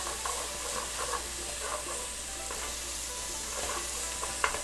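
Lean pork for chow mein browns in oil with vegetables, giving a steady close sizzle and hiss under repeated scraping stirs, with one sharp clink near the end and no voices.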